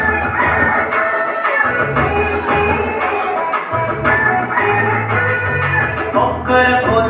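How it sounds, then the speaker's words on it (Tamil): Rooster crowing repeatedly over a busy, cluttered outdoor background, with several drawn-out calls rising and falling at moderate distance. "கொக்கரக்கோ சத்தம் கேட்டு நினப்பு வந்துடுச்சு"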